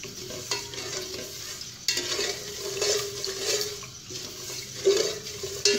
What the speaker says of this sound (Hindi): चीनी ऐड करने के बाद हमें इसका चम्मच लगातार हिलाते रहना है।